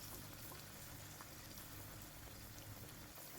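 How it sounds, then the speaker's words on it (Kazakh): Chebureki, Central Asian fried dough pockets, fry in hot oil in a pan, giving a steady, dense sizzle and crackle that stays even throughout with no talk. "Қалған қамырларды да дәл осылай қуырып алатын боламыз."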